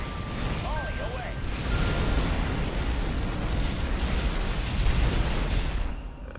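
Artillery volley fired by units in the Halo Wars video game, a dense rumbling barrage of blasts and booms that rolls on steadily for several seconds before cutting off.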